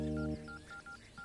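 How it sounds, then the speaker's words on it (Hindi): A telephone is dialed, a quick series of short DTMF keypad beeps following a low hum, close and alone. "पांडी को फोन लगाता हूँ"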